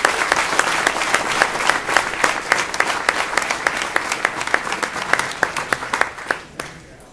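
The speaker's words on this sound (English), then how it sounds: "So another round of applause for them." A crowd gives hearty, sustained applause for the festival hosts at the GI Film Festival 2012 opening ceremony in Hollywood, with dense, loud clapping that carries steadily before trailing off near the end.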